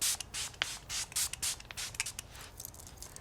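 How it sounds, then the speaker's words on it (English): A scented facial mist for dry skin is sprayed onto the face: a quick run of short, close hissing spritzes in an irregular rhythm, quiet with no talking. "I'm going to spray, so hold please."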